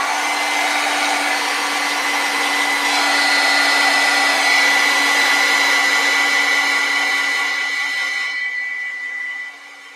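A hair dryer drying paint on a mixed media journal cover blows at a steady, loud, close whir with a constant hum, then eases off near the end.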